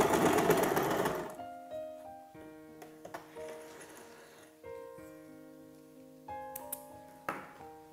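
Sewing machine stitching a seam with the fabric edge held to a 3/8 seam allowance mark, a loud burst of fast motor whir at the start, then quieter intermittent clicks and ticks of the machine.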